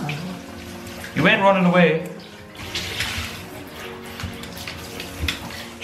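Bathtub water runs and splashes steadily while a pug is being bathed, heard close, with someone talking loudly over it partway through.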